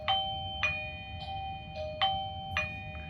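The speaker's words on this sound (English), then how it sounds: "we got to go to the doorbell to sync it with the chime" A Eufy video doorbell's chime rings during syncing, sounding a bright electronic tone that repeats about six times in an even rhythm, moderately close in a quiet setting.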